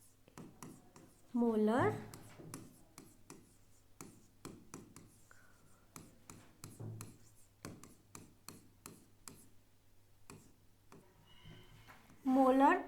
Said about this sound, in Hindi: कैप्स में लिखती हूँ